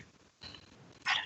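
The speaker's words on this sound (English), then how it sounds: "That's a dog." A dog gives a single short bark, fairly close, after a moment of low background hum.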